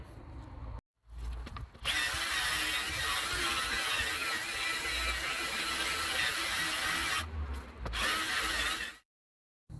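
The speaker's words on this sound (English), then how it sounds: "Soft drill attachment." A power drill whirs continuously with a soft spinning brush attachment scrubbing a fabric car mat, stopping briefly a few times before starting again, close and steady.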